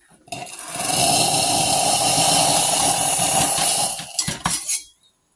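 The steam wand on a Gaggia Viva espresso machine purges with a loud, steady hiss that starts abruptly, holds for several seconds, then sputters and cuts off.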